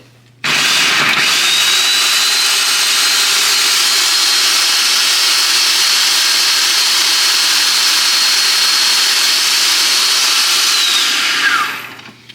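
Food processor blending tarama with onion, a loud continuous high-pitched motor whir starting abruptly, holding steady for about eleven seconds, then winding down, close and alone.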